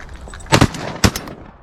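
Shotgun blasts while duck hunting outdoors, two loud close shots about half a second apart, each with a short fading tail.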